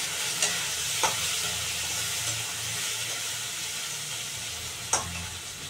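Potatoes frying in a pan give a steady low sizzle with a few sharp scrapes of stirring, alone and close, with no voices.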